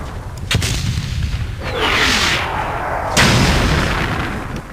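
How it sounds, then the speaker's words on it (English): Mortar fire in a video game: heavy booming launches with a sharp crack near the start and another around three seconds, over a loud, continuous rumbling battle background. "Let's switch to just one of the mortars at a time so we can conserve the ammo."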